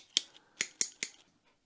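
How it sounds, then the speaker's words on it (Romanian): Double-bladed pruning shears snipping through a branch, four sharp crisp cuts in quick succession at close range, with no talking. "Și acum am ajuns la foarfeca asta cu două tăișuri."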